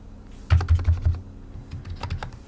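Typing a command on a computer keyboard while setting up services in Arch Linux: a quick burst of close, clicky keystrokes, then a few lighter, scattered taps, with no talking.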